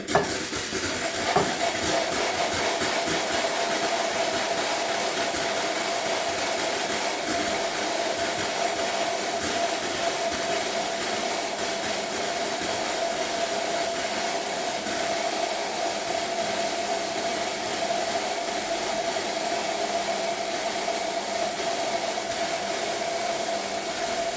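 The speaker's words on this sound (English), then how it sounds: "This is the steaming capacity of the machine." Espresso machine steam wand, single boiler VBM Domobar, blasting at full power: a loud, constant rushing hiss that holds unbroken for over twenty seconds, close and alone.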